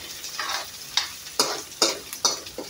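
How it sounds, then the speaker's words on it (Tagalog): Meat browning in a frying pan, a steady sizzle punctuated by regular bursts of louder spitting and stirring roughly every half second, close up, with no speech. "Iba-brown muna natin ang meat."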